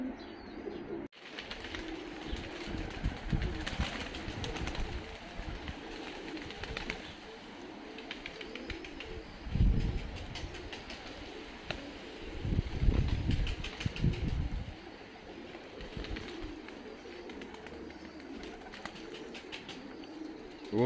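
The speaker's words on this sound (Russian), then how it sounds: "Вот половина голубей, ребята, прилетели." Flock of fighting pigeons in a Tbilisi loft, Georgia, cooing softly and steadily through a busy, low background hum, with a few louder bursts of wing and body movement partway through.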